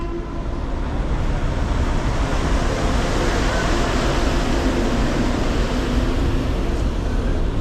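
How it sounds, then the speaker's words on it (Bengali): A Vande Bharat Express train on the New Jalpaiguri–Howrah route produces a continuous, loud low rumble with steady broadband noise throughout and no distinct breaks. "এই দেখুন একদম সুসজ্জিত বন্দে ভারত এক্সপ্রেস।"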